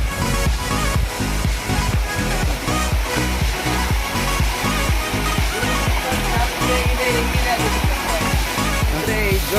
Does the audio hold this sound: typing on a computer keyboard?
no